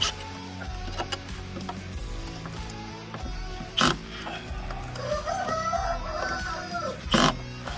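Chickens cluck and grunt around a farmyard at a moderate distance, with soft scattered calls and a couple of louder squawks over a steady background hum.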